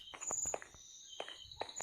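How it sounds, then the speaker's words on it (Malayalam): Quick, light footsteps of a Minecraft character patter in an uneven run over a high steady insect-like whine, fairly quiet. "ഒരാൾ ഓടിപ്പോയ ശബ്ദം"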